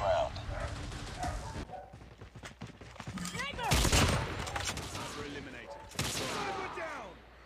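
Rapid bursts of gunfire from the mobile shooter Call of Duty Mobile during a three-versus-three match, loud and close, with sharp volleys near the middle and end while players talk over them.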